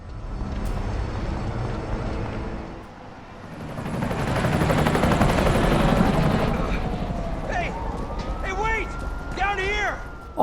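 A helicopter's steady rotor drone dominates in the video game Resident Evil 3 Remake, with engine rumble swelling in the middle, brief sharp bursts and rising tones near the end.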